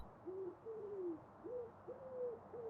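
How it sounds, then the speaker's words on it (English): Pigeons coo in Farming Simulator 19 on an alpine farm, a few soft, low, drawn-out calls repeating at an unhurried pace over a steady ambient bed. "I hear pigeons."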